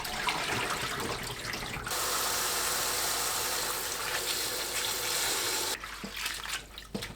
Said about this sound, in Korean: 건군들에는 물에 가볍게 헹궈냅니다.